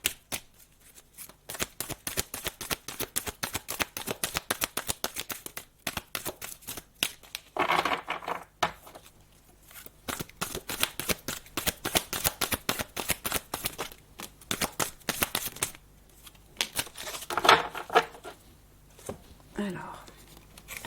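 Tarot cards are shuffled for a reading in quick riffling bursts, a dense close run of papery clicks and slaps repeating over and over, with occasional soft talking between them.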